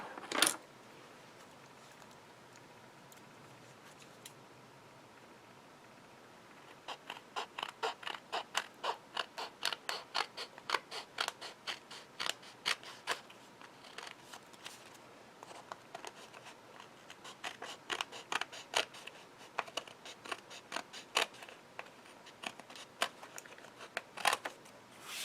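Scissors trim paper for a handmade card, a run of crisp, fairly close snips and creaks in irregular bursts after a quiet start, with no talking.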